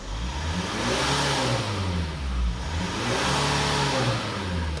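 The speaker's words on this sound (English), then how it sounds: "I'm going to just quickly rev the car" A Mitsubishi car engine, one with a diesel particulate filter, is revved up and held at high revs with a rising and falling roar, loud and close, with no talking.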